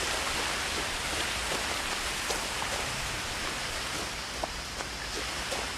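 Rain in the video game What Remains of Edith Finch, a steady, even hiss of falling rain with faint scattered drops, continuous and moderately quiet, with no talking.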